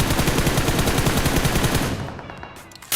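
PUBG Mobile gunfire rattles as a loud, rapid automatic burst for about two seconds, then breaks off into a brief quieter tail before a sharp closing shot.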